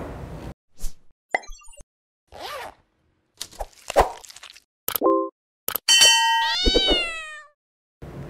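A purebred peaknose Persian cat lets out a clear, drawn-out meow near the end, close up, after a scatter of small clicks, clinks and rustling handling noises.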